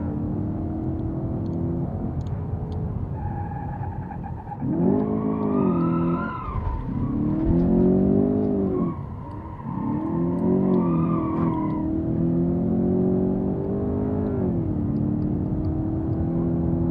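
A car in the BeamNG driving game downshifts and revs, its engine note rising and falling in repeated pitch sweeps over a steady engine drone, loud and close with no talk.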